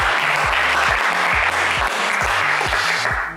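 A French game-show studio audience applauds the evening's challenger in a loud, sustained burst, with rhythmic music beats running underneath and the sound tapering at the end.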